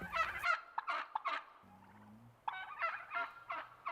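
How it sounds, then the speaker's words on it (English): Turkeys of the blue slate and red bourbon breeds gobble on a farm, several rapid rattling calls in bursts, fairly close and clear, with a low hum between them. "So I have 2 turkeys, blue slates and red bourbons."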